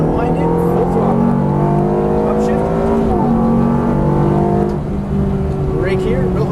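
Ferrari F430 F1 at full throttle on a racetrack, its engine climbing in a sustained high-revving scream with one gear change, loud and close, while an instructor talks over it.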